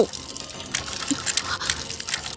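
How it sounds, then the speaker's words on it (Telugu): A leaking indoor tap dribbles and drips steadily into a basin, a faint continuous watery trickle with small splashy ticks, close by and without speech. "నువ్వు ఫోన్ చేసినప్పటి నుంచి ఆ ట్యాప్ కారుతూనే ఉంది"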